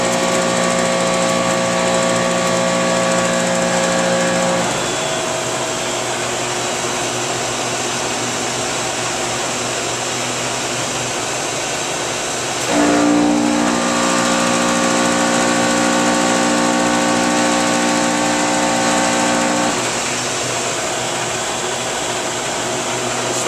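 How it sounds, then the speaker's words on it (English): A 2011 Carrier 30-ton Aquasnap RAP series chiller hums in a shop, its compressors and fans droning with steady tones that drop out, surge back on, then cut out again, leaving a lower background hum. "you just heard the compressors and fans kick out."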